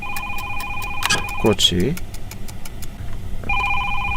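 Telephone ringing in a horror video game, a steady electronic ring heard in two bursts, at the start and again near the end, with someone talking briefly over it and a low engine-like hum underneath.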